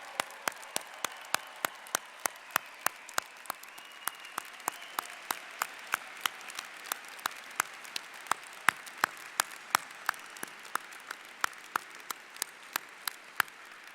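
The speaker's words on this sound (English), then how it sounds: "Let's everybody clap for these guys." A crowd applauds the class of 2017 at a university undergraduate commencement, steady distant clapping with sharp individual claps standing out, lasting throughout with no talk over it.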